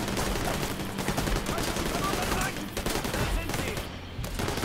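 Rapid rifle fire in The Division 2, dense continuous bursts of shots that pound almost without pause, with brief thinner gaps, loud and close amid the clatter of a firefight.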